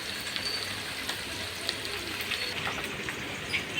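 Chopped onions, curry leaves, coriander and green chillies sizzle in hot oil in a pan, a steady, even crackling hiss close by with no voices.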